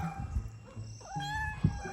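A cat meows several times in a small home setting, with a clear tonal cry in the middle and a couple of shorter calls around it, close and moderately loud.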